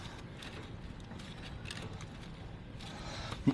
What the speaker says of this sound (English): So now what I'm going to do is tighten this down on the valve